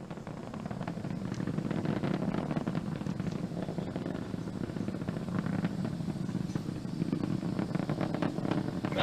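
Falcon 9 rocket engines roar during the Inspiration4 launch ascent, throttled down near maximum dynamic pressure: a continuous, heavy low rumble with crackling texture that holds steady and swells slightly toward the end.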